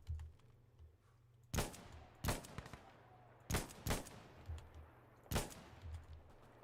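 Gunfire in the tactical shooter Insurgency Sandstorm, five or six sharp, loud shots in short irregular bursts over a quiet, low background hum.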